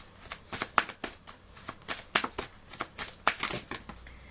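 Tarot cards are shuffled close by in a rapid series of crisp riffling bursts, a dozen or so quick slaps and flutters in an uneven rhythm, with no talking.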